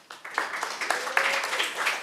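An audience at an ordinance committee meeting breaks into scattered clapping lasting about two seconds, fairly close and steady, with murmuring voices mixed in.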